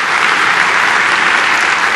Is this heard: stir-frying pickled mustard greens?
no